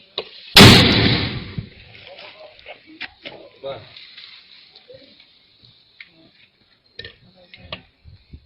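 Soldiers fire guns during fighting in Marawi. One loud, close blast is followed by scattered fainter cracks and echoing reports, with shouted speech among the shots.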